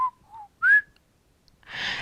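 A person whistles three short tonal notes, the last rising and loudest, then a breathy hiss of air follows after a brief silence, close and alone.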